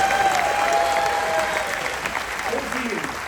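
A cruise ship audience claps together in a steady wash of applause that fades slightly toward the end. It sits at a moderate level, and a faint whistle-like tone runs over it early on.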